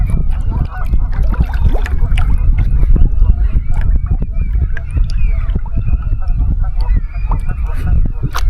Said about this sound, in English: Well, there's the geese.